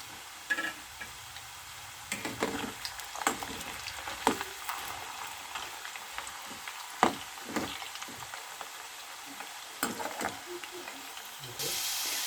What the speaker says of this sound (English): Do deep fry.